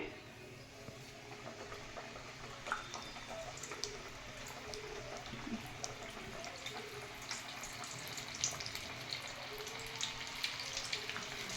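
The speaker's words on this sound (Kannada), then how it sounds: "ಈಗ ಎಣ್ಣೆನಲ್ಲಿ ಹಾಕ್ತಾ ಇದ್ದೀನಿ" Maddur vada dropped into hot oil, a quiet steady sizzle and bubbling with scattered soft pops and crackles, close by and without talk.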